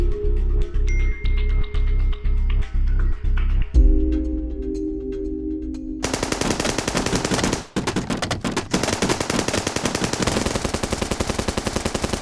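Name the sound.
gunshots and machine gun fire in documentary reenactment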